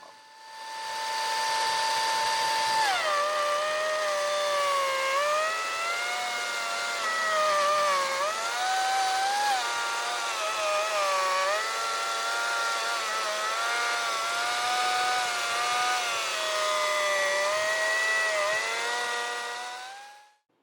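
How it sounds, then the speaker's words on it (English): A power planer flattens white oak pieces, its motor rising into a loud, sustained whine as the boards feed through, the pitch wavering with the load for about twenty seconds before cutting off. "I'm going to take these pieces and run them through my planer to get them flat enough to lay in the form"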